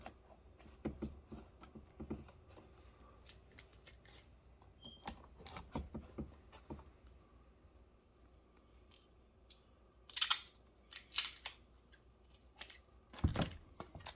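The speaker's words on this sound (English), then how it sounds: "use a few pieces of paper tape just to keep it in place" Paper tape torn and pressed onto the cover of a scale changer harmonium's shipping packaging, a series of sharp scattered crackles and rips close by, with quiet pauses between them and no talking.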